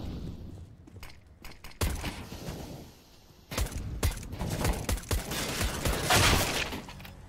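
Gunfire in the video game CS:GO, bursts of shots and rapid fusillades crackling close and loud, pausing briefly before a denser volley.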